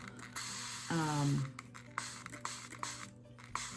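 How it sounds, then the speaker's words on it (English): A hand spray bottle spritzes water over moss on a handmade woodland bird feeder, giving a few quick close hissing bursts followed by soft rubbing and tapping sounds. "just a little spritz, just to kind of dampen it all up"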